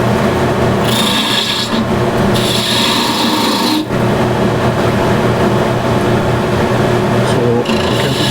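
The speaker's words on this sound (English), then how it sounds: "I'll grab the spindle gouge, drop the rest, and start rough shaping this profile here that I want." A spindle gouge roughs a wood profile on a spinning lathe during woodturning, giving a steady, loud rasping scrape with a constant motor hum underneath and brief breaks where the tool lifts off.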